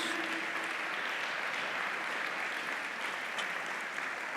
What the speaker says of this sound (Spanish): Dele un fuerte aplauso si usted ya vio la luz.